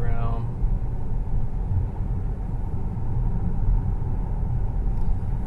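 A car driving around Eagle River, Alaska, heard from inside as a steady, loud low road rumble that runs without a break, with a short tonal sound at the very start.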